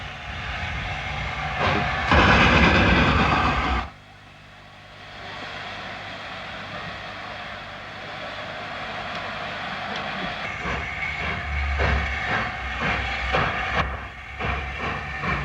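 Sir Nigel, a steam locomotive running late, hisses and blasts steam loudly as it strains to restart its train, a harsh burst followed by a lower rumbling hiss and renewed rough chuffing near the end.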